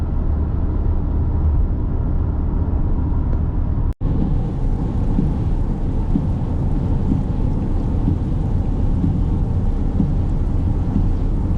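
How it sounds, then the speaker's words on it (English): Steady rain drums on a vehicle during a drive in Idaho, a dense continuous hiss over low road rumble, with one sharp brief break partway through. "It's cloudy, it's raining, and it's dark outside."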